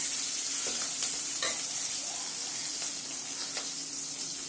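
Onions and chillies sautéing in a pan for a Tamil potato fry give a steady, close broadband sizzle, with a few brief stirring scrapes and clinks and no talking.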